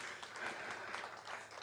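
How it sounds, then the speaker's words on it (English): Audience clapping at a community music concert, a brief, faint, steady patter of many hands with no talking over it. "you can clap"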